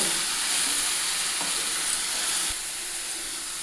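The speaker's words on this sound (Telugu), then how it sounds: "ఈ ఎరగడ పేస్టు రంగు వచ్చిందాక వేగాలండి" Onion paste for chicken kurma sizzling and frying steadily in a pan, a loud continuous crackling hiss with a faint stir or clink midway and no voices.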